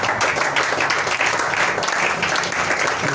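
A church congregation at a French-language worship service applauds in a steady, dense wash of clapping that stays even and fairly close for a few seconds.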